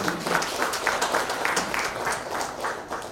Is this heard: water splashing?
no